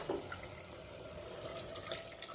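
Water pours into a pot of Bihari-style Champaran mutton, a soft steady splashing, gurgling stream, fairly faint and close.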